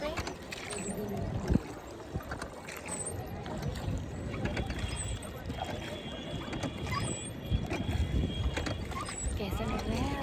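A boat ride on a lake in the Uttarakhand hills, with a steady low rumble of water and hull, scattered knocks and creaks, and faint background voices throughout.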